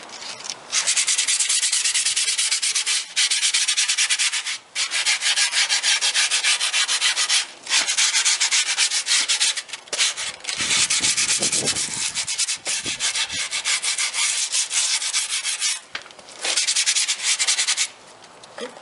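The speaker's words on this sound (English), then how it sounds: "you know, use the rest of your grip tape." Rough, continuous rubbing of leftover grip tape against a wooden skateboard deck edge, long scratchy strokes with short breaks between them, up close and fairly loud.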